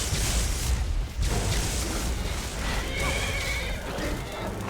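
A horse whinnies loudly while under attack in Skyrim, amid dense, chaotic noise, with hoof clatter and clashing sounds throughout.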